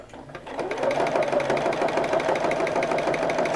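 A sewing machine runs steadily, contour stitching with yellow variegated thread for thread painting on a bag, producing a close, even, rapid mechanical whir throughout.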